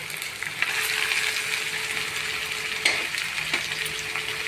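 Brinjal curry with chili powder, salt and turmeric is stirred and fried in a pan, a steady close sizzle broken by a couple of sharper spoon scrapes, with no speech.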